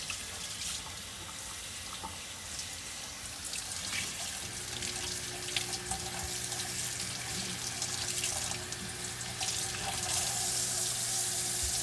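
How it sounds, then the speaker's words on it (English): Warm to hot tap water running to rinse a lace hair unit: a steady faucet stream with splashing and dripping that grows slightly fuller partway through, close and continuous with no voices. "Now rinse with warm to hot water."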